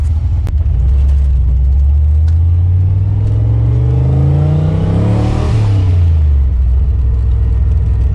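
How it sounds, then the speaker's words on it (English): A car on a test drive after a new clutch cable install, its engine revving up and shifting through gears in a steady, loud rumble heard from inside the cabin. "We're gonna go for a test drive now."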